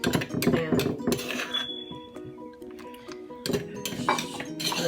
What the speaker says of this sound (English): We're gonna stir the peanuts, like mix it in with the rest of the ingredients that we just blend.